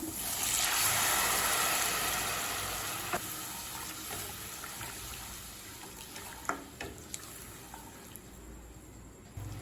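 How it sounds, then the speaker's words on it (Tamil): One cup of water pours steadily into a hot pan of sautéed kurma base with a rushing hiss that gradually fades, followed by a few light clinks and quiet bubbling. "1 கப் தண்ணி சேர்த்துக்கலாம்."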